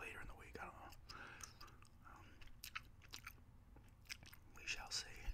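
Gum is chewed close to the microphone in soft, wet, irregular smacks and clicks, mixed with quiet whispering.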